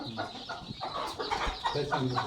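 Hens cluck and murmur at a poultry farm in short, overlapping bursts, fairly close and moderately quiet, with no talking.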